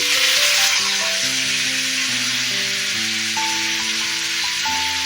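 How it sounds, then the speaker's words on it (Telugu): Gongura leaves fry in oil in a pan with a steady, close sizzle, heard beneath a melodic music track that plays throughout. "ఇది అందులోకి వేసి ఆయిల్లోనే ఫ్రై చేద్దాం"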